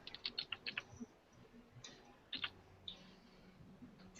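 Keys on a computer keyboard are tapped in two quick bursts of light clicks separated by a short pause, faint and nearby with no voices.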